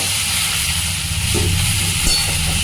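Potato pieces sizzle in hot oil for a fish curry, a loud, steady broadband hiss with a low rumble underneath, close by and continuous.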